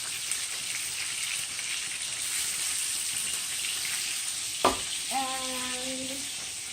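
Mushrooms sizzle in a pan with salt and pepper, a steady close frying hiss, with a sudden tap near the end followed by a brief ringing tone.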